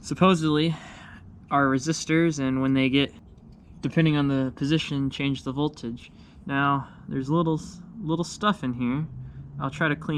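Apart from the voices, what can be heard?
No everyday noises stand out.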